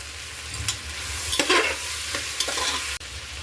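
Biryani masala, coriander and cumin powders fry in a pan for veg soy pea pulao, a close, steady sizzle broken by scraping stirs of a spoon and a final tap.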